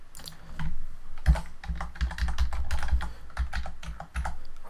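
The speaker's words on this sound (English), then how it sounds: "Typed in the correct password this time" A password is typed on a computer keyboard to open an Excel spreadsheet, a steady close run of clicking keystrokes with a few heavier thumps, no voices.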